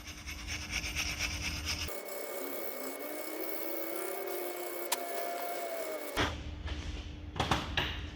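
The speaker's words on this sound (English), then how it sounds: "Just using a wire brush, go round, get any loose bits off." A wire brush scrubs the front brake hub face of a VW Golf GTI Mk7, a steady close rasping rub lasting several seconds, ending with a few sharper scrapes and knocks.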